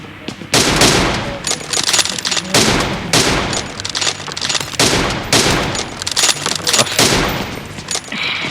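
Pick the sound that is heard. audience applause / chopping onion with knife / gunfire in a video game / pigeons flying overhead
gunfire in a video game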